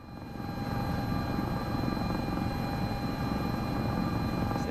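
Helicopter in Microsoft Flight Simulator 2024 hovering over rough terrain, a loud continuous rotor thrum with steady engine whine, close and unbroken after a quick swell at the start.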